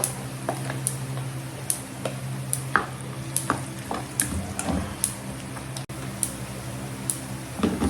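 Onions sizzle steadily in a pan while being sautéed, with a constant frying hiss and occasional clicks of a utensil stirring against the pan, close and without talk.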